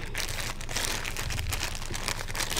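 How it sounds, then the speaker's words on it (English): A cell phone inside a plastic bag crinkles and rustles continuously up close, with dense crackling handling noise and no voices. "My fancy cell phone in a plastic bag"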